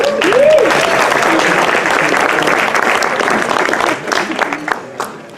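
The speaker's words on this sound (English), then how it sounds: "Can we have a round of applause for Matt, please?" Wedding guests clap together during the reception speeches: a short whistle rises at the start, then sustained applause fades toward the end, with voices breaking in.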